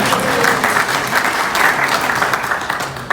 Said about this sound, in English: a little applause for Nellie Kaufman there